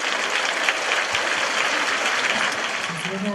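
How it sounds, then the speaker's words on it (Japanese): A crowd at a Japanese fan meeting in Tokyo claps in sustained, even applause, dense and steady for a few seconds with no pauses. "拍手。"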